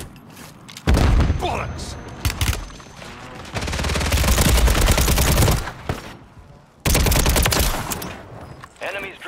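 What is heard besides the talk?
gunfire in the video game Warzone 3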